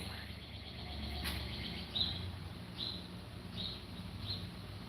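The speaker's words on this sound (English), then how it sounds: "I like how the birds sound because it's like they're singing." Birds chirp faintly outdoors, giving four short, evenly spaced tweets over a low background hum.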